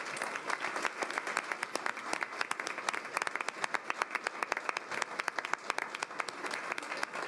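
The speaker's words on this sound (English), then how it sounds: "I think we need to give you all a round of applause" A board of education meeting audience applauds with sustained, dense clapping from many hands throughout, steady and fairly loud in a large room.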